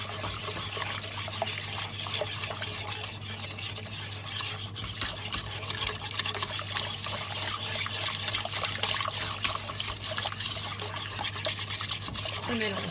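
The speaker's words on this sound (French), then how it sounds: "Je vide ma semoule et le sucre glace. Et je vais mélanger et je ne vais pas m'arrêter" Semolina and icing sugar are whisked together in a bowl without pause, a dense, steady scraping swish that runs the whole time at close range, with no voices.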